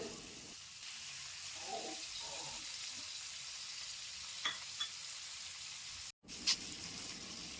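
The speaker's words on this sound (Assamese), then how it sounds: "ইয়াতে আমি কাটি লোৱা পনীৰখিনি অলপ ৰঙচুৱা হোৱাকৈ ফ্ৰাই কৰি ল'ম।" Soft sizzle of paneer frying in butter, with a few light clinks and scrapes of a utensil in the pan, quiet and close, no talking.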